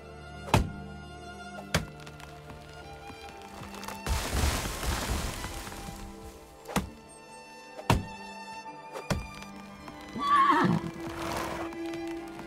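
In the video game Medieval Dynasty, a horse whinnies loudly near the end, after a series of sharp, evenly spaced thunks and a burst of scraping noise earlier on.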